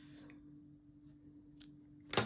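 A single crisp snip of scissors cutting off a loose crochet yarn end, close and sudden after a quiet moment, with faint background hum and no talking.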